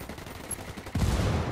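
Gunfire from the video game Ghost Recon Wildlands: quieter rattling at first, then a louder burst of rapid shots in the second half, with no talk.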